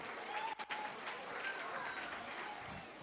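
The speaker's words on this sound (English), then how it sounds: "give yourselves a round of applause" An audience gives a round of applause, quiet and somewhat distant clapping from a crowd that carries on fairly evenly for a few seconds without speech.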